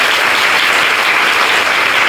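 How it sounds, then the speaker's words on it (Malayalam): Audience applause at a devotional spiritual gathering, a dense, steady wash of many hands clapping together, loud and close, sustained evenly throughout without any pauses or talk. "എല്ലാവരും ഒന്ന് കൈയടിച്ച് കേട്ടപ്പോൾ"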